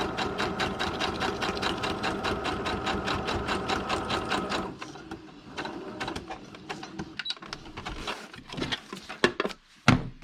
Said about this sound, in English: I'll outline an image with some sewing like this